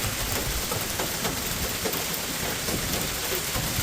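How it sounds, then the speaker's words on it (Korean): Heavy hailstorm with torrential rain and strong gusts, a dense, loud, continuous roar of rain and hail pounding surfaces without a break. "우박을 동반한 폭풍우가 휘몰아치며 도심이 물에 잠겼는데요."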